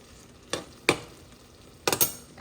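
A tomato and eggplant bhorta simmers in a pan on medium heat under a soft, low sizzle, broken by several sharp scraping strokes of a spoon against the pan.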